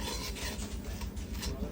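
Black pepper and aniseed are ground in a steady rasping, scraping rub, quiet and continuous for just under two seconds, with no speech.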